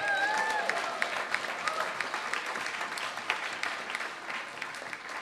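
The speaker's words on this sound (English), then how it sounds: "So can we give a round of applause to James Ratnaraja?" An audience at a question-and-answer event applauds a presenter with a steady, moderately loud round of many people clapping for several seconds, with a faint voice near the start.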